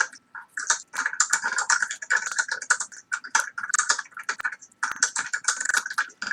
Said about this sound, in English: she's a typing maniac